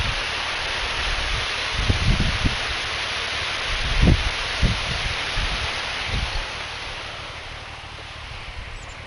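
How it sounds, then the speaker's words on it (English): Torrential rain downpour outside, a steady dense hiss throughout with some low rumbling gusts and thumps in the middle, then settling back to an even roar. "It sounds to me like we just have a torrential downpour going on."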